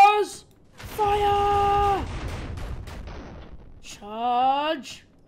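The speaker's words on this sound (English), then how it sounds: "Charging my lasers. Fire." Laser guns firing in the Murder Miners video game: rising, wailing synthetic tones with rapid crackling bursts, loud and close, in two separate shots.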